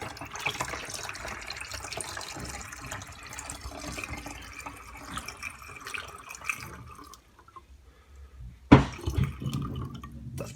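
Water pours steadily from a tap into a bottle being filled to about 400 ml for a DIY grow-room CO2 setup. The rushing flow runs for several seconds, breaks off, then resumes with splashy gurgles.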